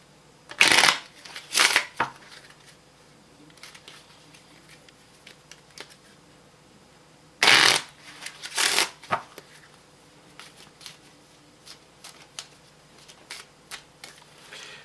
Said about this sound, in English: we'll go ahead and shuffle it